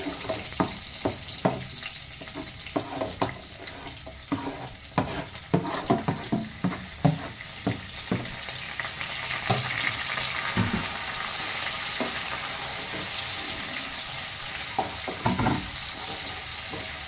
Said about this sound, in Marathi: कांदा टाका तेलवर.